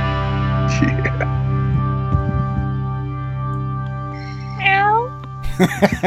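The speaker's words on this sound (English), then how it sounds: "And there's the Coco cat." A house cat gives a single clear rising meow, heard briefly over a steady music bed while people talk and cheer around it.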